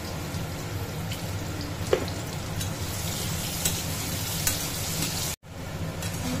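Paneer fries in hot oil with a dense, continuous crackling sizzle and occasional sharp pops and stirring knocks, fairly close and steady, ending with a short break.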